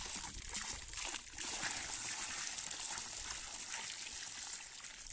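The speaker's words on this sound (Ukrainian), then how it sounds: "Беру, типа набираю у відро воду і тако виливаю." Water poured from a bucket into a fish pond, a steady gushing splash with a brief dip partway through before the pour resumes, heard close and alone.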